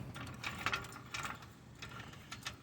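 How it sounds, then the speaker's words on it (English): Front subframe on a 2009 Mazda 5, recently replaced, making a few irregular creaking pops and clunks from close by, with no talking. "So it's the subframe that's popping."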